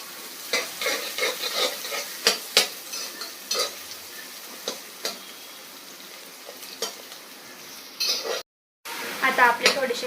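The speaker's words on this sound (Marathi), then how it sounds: "आता त्याच्यात आपण आपल्या अद्रक लसूणची पेस्ट टाकून घेऊ।" Onions frying with ginger-garlic paste for spicy mutton curry, sizzling steadily under repeated stirring with a spoon that clinks and scrapes against the pan, close and alone with no talk.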